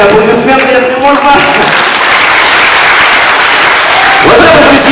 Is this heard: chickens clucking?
no